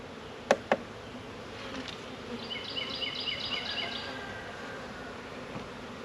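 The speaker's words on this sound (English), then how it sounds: "Put the bees down inside the box." Faint, steady honeybee buzzing as a bee package is placed into a hive box, drifting through a quiet outdoor background, with a couple of sharp clicks near the start.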